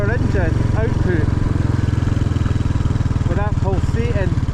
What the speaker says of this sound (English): with that pulsating power, that throbby engine.